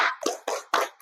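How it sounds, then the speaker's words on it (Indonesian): Classroom applause after a group activity in a primary school science and social studies lesson, a few quick bursts of many hands clapping close by over about a second. "Tepuk tangan dulu untuk kita."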